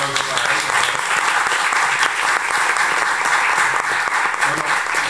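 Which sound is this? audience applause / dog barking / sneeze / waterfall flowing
audience applause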